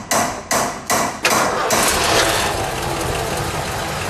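Turn signal of a 1979 Lincoln Continental Mark V Bill Blass Designer clicking: four sharp, loud, evenly spaced clicks close by, after which a continuous engine rumble takes over.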